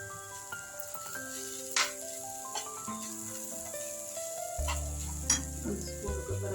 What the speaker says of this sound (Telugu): రెండు నిమిషాల తర్వాత బీట్రూట్ చక్కగా ఫ్రై అయిపోయింది.